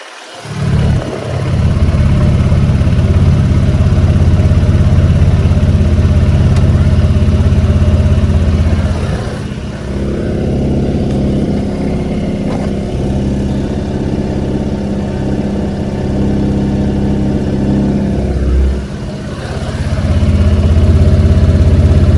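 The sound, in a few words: Honda Forza 125 scooter engine idling after start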